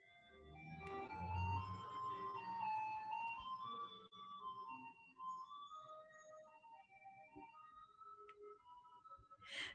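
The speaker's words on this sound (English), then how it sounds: "It's our ice cream truck." An ice cream truck playing its tinkling melody in a city neighborhood, the tune drifting at moderate distance over steady background noise for the full stretch, with no talking.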